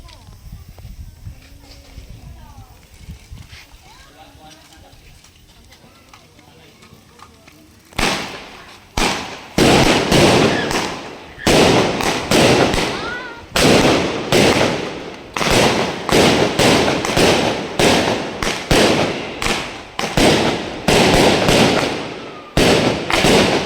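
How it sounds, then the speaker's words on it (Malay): Fireworks and firecrackers set off at a family home in Rawang during Hari Raya: a quiet stretch with voices, then a long, rapid series of loud, sharp bangs and cracks close by. "Untuk hari ini kita main bunga api dululah."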